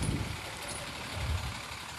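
An ex-British Telecom lorry's engine runs steadily at close range, a continuous low rumble with broadband mechanical noise throughout and no talk.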